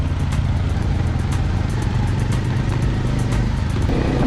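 A motorcycle rides a rough off-road track through tea plantations in Wayanad, its engine droning loud and close at a steady pace with small bumps and rattles throughout.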